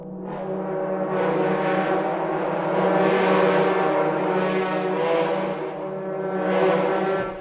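A massive, brassy cinematic braam from ProjectSam's Pandora library swells and fades in repeated waves, deep and loud, its bright upper edge pulsing like a huge horn blast.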